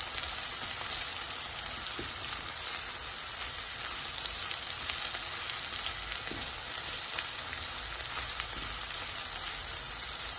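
Medium onions and ginger fry in hot oil toward golden brown, giving a steady, dense sizzle that runs close and even throughout, with faint occasional stirring taps and no talk.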